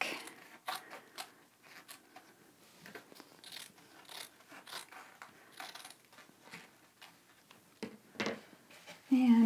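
Scissors snip through fabric while a quilter's pressing board is built, giving quiet, close, irregular crisp cuts and small crunches in a steady working rhythm.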